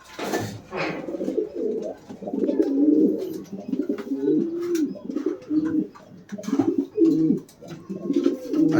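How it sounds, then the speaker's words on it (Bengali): King pigeons in a special indoor room coo steadily in overlapping low, throaty rolls, close and continuous, with a few faint bird chirps above. "এই যে আমার কিং কবুতর"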